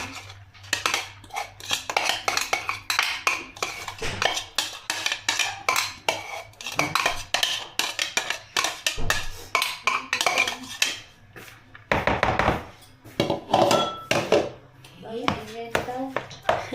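Food being stirred and mixed in a pan, with repeated clattering utensil scrapes and clinks of metal against cookware in an irregular rhythm, close and fairly loud throughout, with occasional speech alongside.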